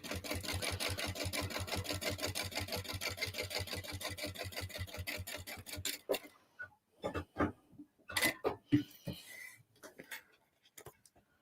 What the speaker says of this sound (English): going to top stitch this side, just in exactly the same way, except make sure I put my top stitching length on.